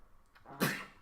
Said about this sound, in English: Look at him; he's gonna sneeze.